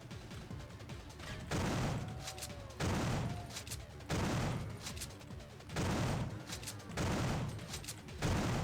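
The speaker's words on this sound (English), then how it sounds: "It feels so good to shoot weapons." Weapons fire in the video game System Shock 2, repeated bursts of loud automatic gunfire roughly every second or so, separated by short gaps, with faint game sounds between them.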